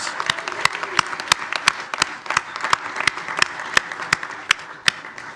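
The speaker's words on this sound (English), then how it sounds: "let's give it a round of applause for the coaches and players" Applause at a village board meeting in La Grange honoring softball coaches and players: a small group claps steadily, with loud distinct individual claps standing out against a softer spread of hands throughout.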